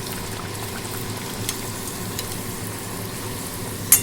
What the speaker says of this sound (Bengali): এবারে গরম গরম ভাজবো